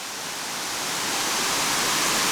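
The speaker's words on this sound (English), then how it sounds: "Here's looking down onto the waterfall from above." A waterfall on a creek, heard from above, pours out a steady broadband rush of water that builds slightly in loudness and continues without any speech over it.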